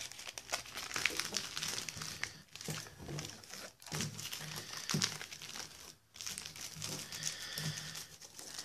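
Tin foil flaps being folded down by hand to shape a small cup, a steady close crinkling and crumpling that runs throughout with brief pauses.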